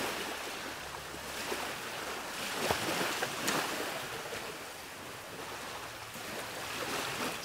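Ocean waves break and wash on a beach at San Juan, Siquijor Island, Philippines, as high tide recedes, a continuous soft surf hiss with gentle swells and occasional wind buffeting, fairly quiet and without voices.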